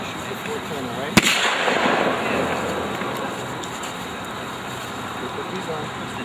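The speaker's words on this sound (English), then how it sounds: "Shoot the 410, all right?" A .410 shotgun fires once at an outdoor expo shooting area, a single sharp loud blast followed by a lingering rumble over steady crowd and background noise.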